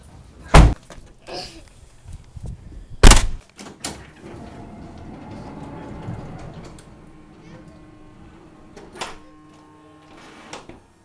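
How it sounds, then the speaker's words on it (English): Doors being shut and locked in a hurried home scene: two loud, sharp slams, then quieter thumps, clicks and rattling, with a soft rumble in the middle and a final light knock. "We must close the doors and lock them!"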